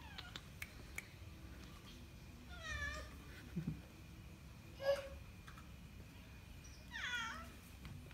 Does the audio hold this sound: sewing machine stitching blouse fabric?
no